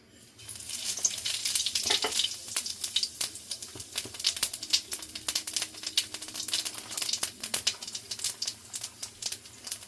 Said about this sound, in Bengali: এখানে সাদা জিরে আর শুকনো লঙ্কাটা দিয়ে দেবো।